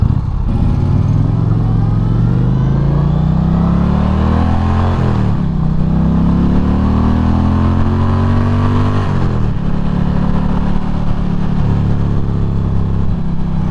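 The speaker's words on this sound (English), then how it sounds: "This Challenger is possibly one of the most well-balanced bikes that I've demoed." A 2023 Indian Challenger motorcycle is ridden with its engine loud and close, rising in pitch through two long pulls and dropping at each shift, no voices present.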